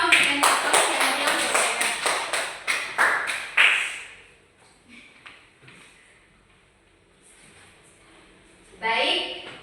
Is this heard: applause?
yes